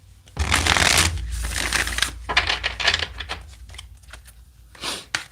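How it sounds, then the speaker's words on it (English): Tarot cards being shuffled by hand, close and crisp: a long riffling flutter up front, then several shorter bursts of slapping and sliding cards, with no talk. "let me shuffle these cards here right quick"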